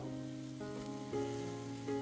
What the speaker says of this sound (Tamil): இப்ப இந்த டைம்ல நம்ம கிளீன் பண்ணி வச்சிருக்க கருவாடு ஆட் பண்ணிப்போம்.